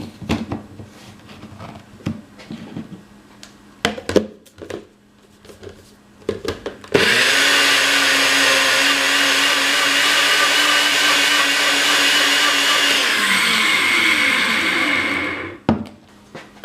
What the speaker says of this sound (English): now we're going to add all our ingredients into our blender